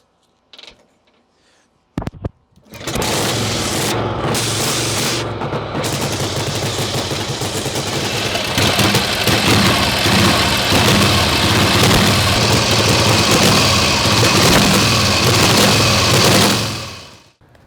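A 1940 Harley-Davidson flathead motorcycle engine with ported, polished heads and aggressive cams starts after a few clicks and then runs loud and close, holding a steady, throbbing idle with a slight rise in the middle before cutting off.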